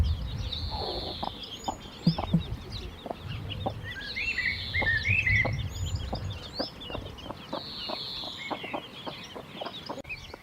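Young chicks foraging outdoors with broody hens give repeated high peeping calls over soft scratching and rustling, with a few louder calls near the start and steady activity throughout.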